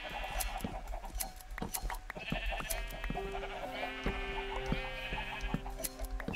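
Sheep in Minecraft bleat several times in short wavering calls over faint clicks and ticks, fairly quiet and close.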